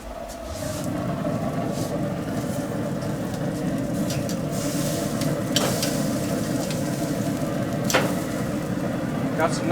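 A T-bone steak is turned on a Pit Boss wood pellet grill, giving a steady close sizzle with a couple of sharp scraping clicks from the flip and no talk over it.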